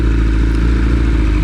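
A 2022 BMW motorcycle fitted with Black Widow exhaust headers and its exhaust valves removed idles loudly and close, its low engine drone broken by rapid crackling and popping from the exhaust.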